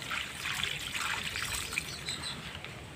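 Water trickles and splashes continuously as garden plants are watered outdoors on a windy day, with faint bird calls in the background.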